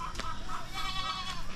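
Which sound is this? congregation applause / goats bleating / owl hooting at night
goats bleating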